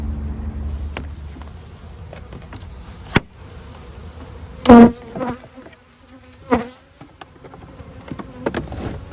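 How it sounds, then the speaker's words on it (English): Steady buzzing of bees from a heavily packed hive fills the background, with occasional louder bees passing close by and a few brief knocks. "Ton of bees."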